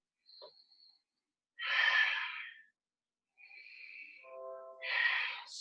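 Breathing during yoga boat pose, with a few close airy inhales and exhales separated by pauses, some with a faint wheezy, whistling edge.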